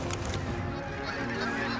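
A dense chorus of white geese honking continuously, many birds calling at once, loud and close throughout.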